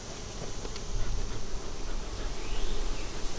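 Honeybees buzzing around an open hive during a morning inspection, a dense steady outdoor hum of many wings close by, with no talking.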